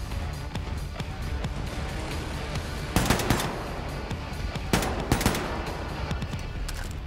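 Gunfire in the shooter Wolfenstein II, with continuous rattling bursts through the clip and two louder volleys that stand out around the middle and again near the end, no talking over it.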